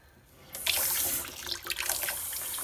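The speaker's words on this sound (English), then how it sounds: "My mom always did it under running water." Tap water runs steadily into a kitchen sink while a hard-boiled egg is peeled, starting after a brief quiet moment and continuing as a close, bright splashing stream.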